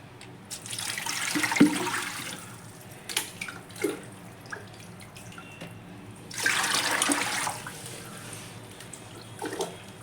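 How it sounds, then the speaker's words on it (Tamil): Water poured from a tub into a glass fish tank during cleaning, with splashing and gurgling pours that come in uneven bursts, two of them longer, and quieter trickles and drips between. "நல்லா ஒரு 3/4 டேங்க் வர மாதிரி நம்ம தண்ணி ஊற்றி விட்டுருவோம்."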